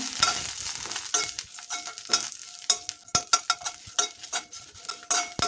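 Black pepper roasting in a pan for jackfruit sambar, stirred with a utensil that scrapes and clinks against the metal in quick irregular strokes over a soft, dry sizzle.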